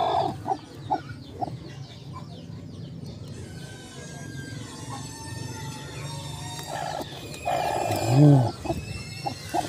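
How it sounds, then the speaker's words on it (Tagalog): Chickens cluck in short, scattered bursts nearby, with one louder squawking call rising near the end amid faint farmyard bird chatter. "Chicken."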